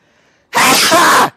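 A single loud, close sneeze erupts abruptly and lasts about a second, breathy and forceful, with near silence around it.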